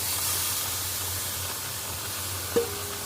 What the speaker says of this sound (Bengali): এবার এতে তুলে দেব মেখে রাখা মাংসটা